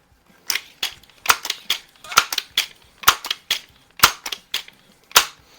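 Suppressed shots from Crosman 66 and 2100 pump air rifles, a series of sharp, dry cracks at irregular intervals, some in quick pairs, alone against a quiet background.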